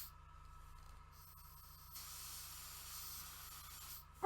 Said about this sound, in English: so I can spray kind of straight on.